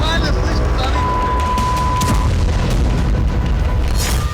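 Deep booming blasts of two back-to-back explosions, caught on a car dashcam during the Russia-Ukraine war, rumble over continuous roaring noise, with a faint tone and distant crackling through the din.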